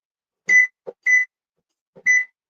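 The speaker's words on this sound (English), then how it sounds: "let's set the timer." A kitchen timer beeps three times in short, spaced electronic tones, with faint clicks between them, set while sausages and other food cook on the stove and in the oven.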